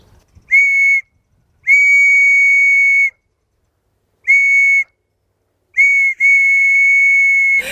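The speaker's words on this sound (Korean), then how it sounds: "진짜 아무나 못 만드는 수제 호루라기" A handmade whistle is blown close by in four shrill, piercing toots, the last two longest and nearly continuous, with silent gaps between them.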